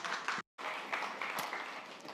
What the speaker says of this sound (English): with a big round of applause, let's welcome our first presenter, Beep.